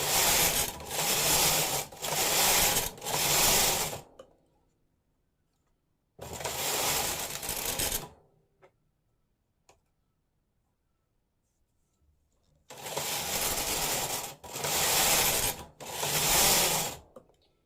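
A knitting machine works a two-colour sleeve for a ladies' coat, its carriage rasping across the bed in loud mechanical sweeps: three quick passes, a pause, one pass, a longer silence, then three more.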